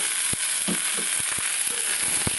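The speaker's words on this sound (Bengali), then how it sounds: "শুকনো লঙ্কা পাঁচফোড়ন দিয়ে একটু ভাজা করব" Mixed vegetables fry in oil with dried red chilli and panch phoron, a continuous close sizzle under several sharp knocks and scrapes of a spatula against the pan, with no talking.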